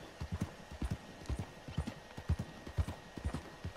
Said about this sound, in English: Okay, so now we're gonna steal some horses.